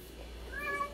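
A crying cat that wants to go outside lets out a single short, rising meow at close range in a quiet indoor room.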